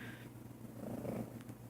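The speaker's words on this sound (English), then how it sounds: "my cat is like wanting lovin's at the same time I'm trying to do this" A house cat purring up close in a quiet room, a steady low rumbling that holds for under two seconds with no talking over it.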